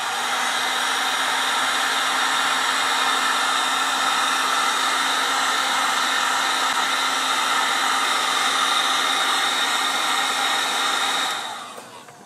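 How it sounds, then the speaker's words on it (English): A heat gun blows hot air onto a capacitor from a VFO, a loud, steady whooshing hum that holds for about eleven seconds before winding down at the end. "let's hit it with the heat gun and see what happens"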